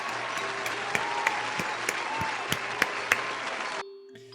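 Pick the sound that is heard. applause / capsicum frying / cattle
applause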